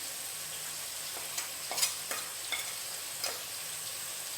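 Crab masala with turmeric, coriander powder and fish masala sautés in a pan, giving a steady close sizzle broken by a few soft scrapes and clinks as it is stirred.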